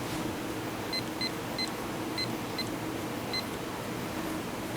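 A timer is set on a Lesker PVD 75 deposition tool before a gold deposition, producing a series of short, clear electronic beeps in irregular groups over a constant low machine hum.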